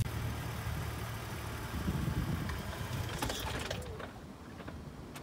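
A manual car's engine hums low and steady as gas is applied while the clutch is let out, the drone rising slightly before easing off, with a few light clicks near the end.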